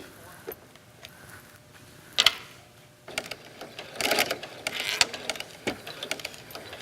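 A sewing machine fitted with a walking foot stitches silk velvet slowly, giving soft, uneven mechanical whirring and clicking bursts close by, with brief louder ticks and no talking.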